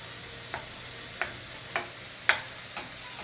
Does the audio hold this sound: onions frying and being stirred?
yes